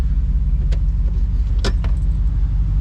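A Jeep Wrangler with a swapped 6.4 Hemi engine idles with a deep, steady rumble close by, while a few sharp clicks and rattles sound over it.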